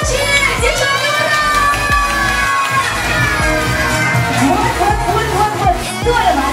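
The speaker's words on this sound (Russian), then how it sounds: "Ваши полные аплодисменты для девочек!" Children at a birthday party cheer and shout for the girls' team, a loud, dense crowd of high excited voices whooping and yelling continuously, with brief thumps throughout.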